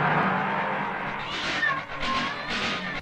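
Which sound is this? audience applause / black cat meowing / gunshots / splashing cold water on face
black cat meowing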